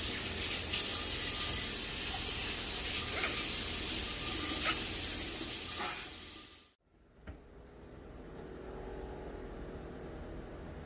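Running water flushes out a snake bite wound on a hand, a loud steady tap-like hiss that cuts off abruptly, then returns as a quieter stream.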